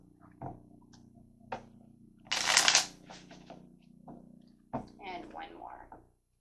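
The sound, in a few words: shuffling tarot cards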